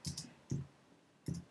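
Three quick clusters of clicky keystrokes on a computer keyboard, close and fairly quiet, with short pauses between bursts.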